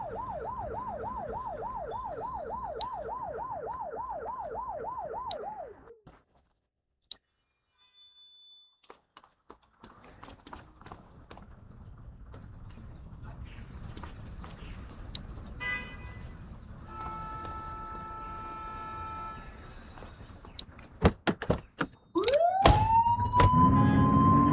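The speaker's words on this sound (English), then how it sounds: "Turn that siren off. We don't need it on right now." A police car siren in the game The Precinct wails in a fast, rising-and-falling cycle for several seconds, then cuts off, followed by engine, traffic and scattered impact sounds and a later brief siren burst.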